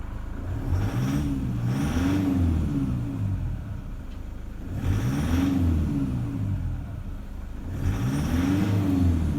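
A 2008 car engine idles with a steady low rumble and a slight rattle, with periodic rises and falls in pitch suggesting gentle revving, close and continuous.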